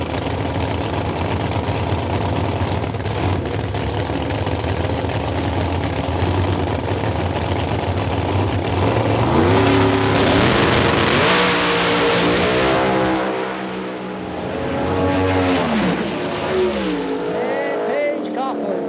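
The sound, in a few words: drag race cars making a pass at Virginia Motorsports Park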